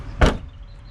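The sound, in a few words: car boot opening on a Suzuki Ignis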